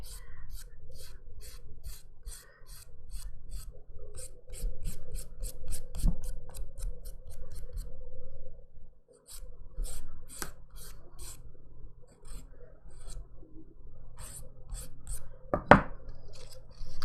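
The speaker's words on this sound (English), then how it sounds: "all I'm doing is just getting everything all buffed out and smooth" Steady rhythmic rasping strokes of a nail file buffing a dip powder manicure smooth, quick repeated scrapes running continuously with a brief pause midway, close and moderately loud.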